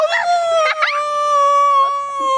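A child imitating a wolf howl, voicing a sustained, wavering high howl with a few yipping breaks near the start, loud and close.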